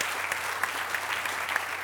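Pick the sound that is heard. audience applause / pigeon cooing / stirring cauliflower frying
audience applause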